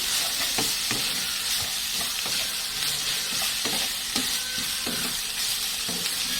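Vegetable peels with salt and turmeric being stirred in a pan, a steady close sizzle of frying under repeated scraping strokes of the spoon, with no talking.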